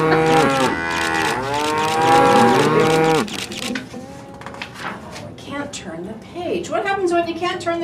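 Loud, drawn-out cow moos from a read-aloud picture book about cows, several long wavering lowing calls, the first stretch strong and sustained, later ones shorter and mixed with a clatter like a drawer or dishes.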